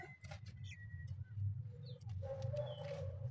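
Pigeons coo softly in a low, continuous murmur, with faint chirps of other birds over a quiet background.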